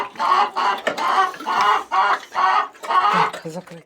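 Chickens cluck in repeated bursts close by, with short pauses between the calls.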